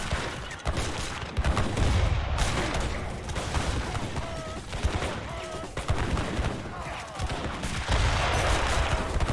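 Howitzer artillery fire in a real-time strategy game battle, a dense, continuous barrage of overlapping shots and booms with rapid gunfire throughout, loud and close.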